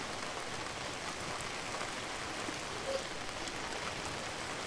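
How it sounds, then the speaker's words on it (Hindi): Rain falling steadily around a home during a downpour, a soft, even, continuous patter and hiss at low level, with no voices. "कितना प्यारा सा यहाँ पर बारिश हो रही है"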